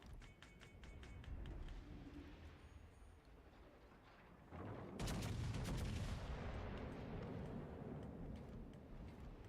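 Naval gunfire in World of Warships Legends: a booming cannon blast bursts in midway, leaving a dense rumbling roar that lingers over a quieter game background, with no talking.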